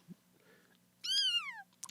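A person imitates a kitten with one high, sliding meow, clear and close against a quiet room with faint low hum.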